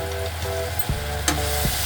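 Ginger and garlic frying in a pan, a close, steady sizzle with a few stirring knocks over a constant hum.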